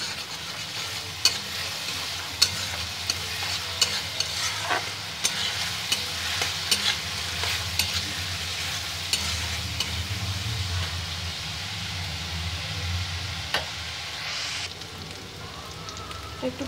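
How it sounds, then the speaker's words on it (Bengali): Ginger garlic paste fries in ghee for a chicken dish, a continuous close sizzle and crackle with scattered sharp clicks of a spoon against the pan. "একটু ভাজা ভাজা হয়ে গেছে"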